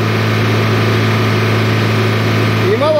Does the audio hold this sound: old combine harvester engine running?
yes